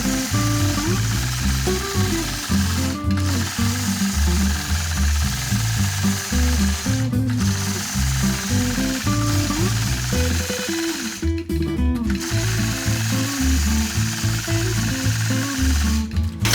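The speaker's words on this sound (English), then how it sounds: "now finish this off by stitching a loop into the center of each of these 4 quadrants." A quilting machine stitches loops into a quilt block, giving a loud, close rapid mechanical hammering that speeds and slows in bursts, broken by several brief pauses.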